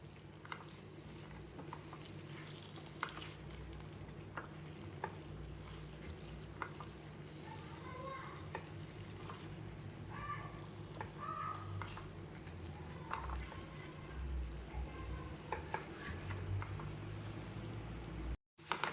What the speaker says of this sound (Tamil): இப்போ புதினா நல்லா வதங்கிட்டு வதங்கட்டும்ன்ட்டு நம்ம தேங்காய் போட்டு இறக்கிக்கலாங்க